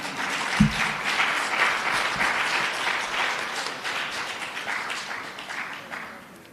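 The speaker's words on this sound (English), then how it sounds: "Clap them." An indoor audience at a senior citizens week launch claps together for several seconds, the applause swelling after a sharp opening clap and then slowly fading.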